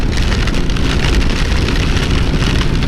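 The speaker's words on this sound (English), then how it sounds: "It's raining so hard, even the cars are slowing down." Heavy rain pours down in a loud, dense, steady roar close by, with passing cars hissing through the wet road and merging into the downpour.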